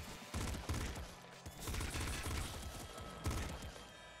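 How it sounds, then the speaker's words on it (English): In the video game Nuclear Throne, a pop rifle fires in quick bursts of sharp pops, repeated rapid volleys across a few seconds amid other game effects, at moderate level. "Do like the pop rifle."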